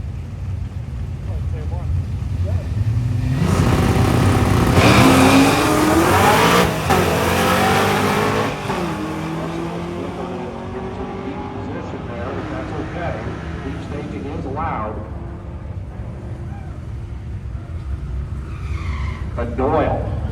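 Drag race cars, including a 1969 Camaro and an S10, launch side by side at MIR during Hot Rod Drag Week 2025, engines roaring and tires squealing loudly before fading into the distance under a track announcer's commentary.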